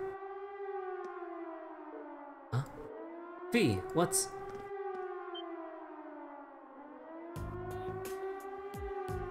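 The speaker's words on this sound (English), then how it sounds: "It sounds like a siren. It seems to be coming from the fort." A wailing civil-defense-style siren sounds from a fort in the video game Trails of Cold Steel, its long rising and falling tone steady throughout, with brief voices and game noises breaking in over it.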